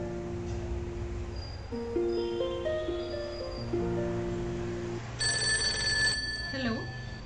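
An electronic phone ringtone plays a stepped melody of tones, then a high steady beep sounds, with a brief voice near the end.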